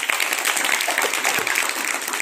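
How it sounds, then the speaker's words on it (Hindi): A crowd applauds steadily, a dense wash of many hands clapping at once, filling the whole moment. "तो एक बार हमारे सैनिकों के लिए जोरदार तालियां हो जाए"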